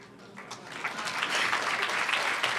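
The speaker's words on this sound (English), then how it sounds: "You're all clapping" Audience at a live storytelling event in Rochester breaks into applause, starting quietly and swelling into full, sustained clapping.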